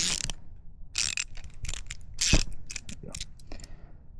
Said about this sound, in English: make sure you get the key all the way in there first, crack the bolt loose